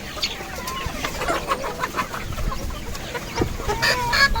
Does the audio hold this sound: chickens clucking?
yes